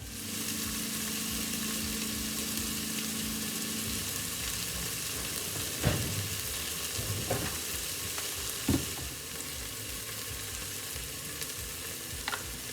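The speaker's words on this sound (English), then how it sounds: "Adding my onions." Onions go into a frying pan of hot oil for a fish curry and sizzle in a steady, quiet hiss, broken by a few soft clinks and scrapes of stirring.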